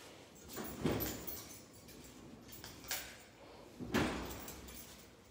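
A door is opened and closed at a house with a weedy backyard, two fairly loud knocks or bangs about three seconds apart amid faint room noise and scuffling.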